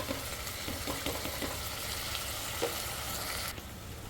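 Vegetables with ginger garlic paste fry in a pan, giving a steady close sizzle with occasional crackles and faint stirring scrapes throughout, then the sound drops slightly near the end.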